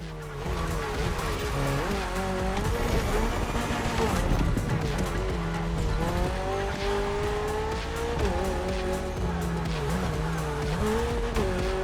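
A Toyota GR86 race car with a lightweight, naturally aspirated engine races through neon-lit city streets in The Crew Motorfest, its engine droning steadily and rising and falling through gear changes, with tire squeals over a continuous racing soundtrack.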